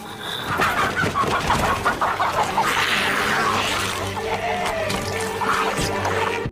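Chickens clucking in a barnyard, with a steady, busy stream of overlapping clucks and fowl calls close by, and some watery background noise running underneath.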